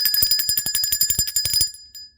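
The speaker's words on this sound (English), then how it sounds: "Let's ring the bell for that." A bell rings rapidly in a steady trill of bright metallic strikes, loud and close, then stops abruptly with a faint ring trailing off.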